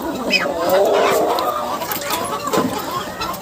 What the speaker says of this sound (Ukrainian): Давай, біжи, біжи, курочка, біжи.